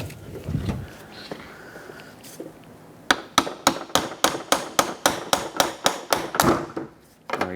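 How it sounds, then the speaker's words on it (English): Hammer tapping a wiper transmission loose from its mounting on a 2003-2021 Chevrolet Express 350 van, about a dozen sharp metallic taps in a steady rhythm, close and distinct after a few quieter clinks. "If it doesn't, we'll just give it a slight tap with a hammer"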